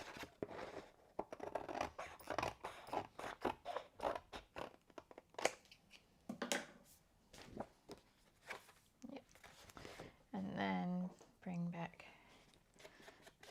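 Scissors trimming a tiny edge of black cardstock, a few short crisp snips and paper rustles close by, with someone talking quietly throughout.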